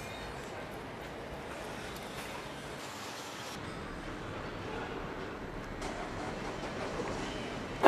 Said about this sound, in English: As you can see, we're on a train now.